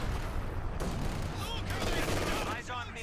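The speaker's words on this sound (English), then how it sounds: "Artillery shells are dropping. It's major artillery." Major artillery barrage in Company of Heroes 2, shells dropping in a dense rumbling series of booms and blasts with crackling debris, loud and continuous under a commentator's talk.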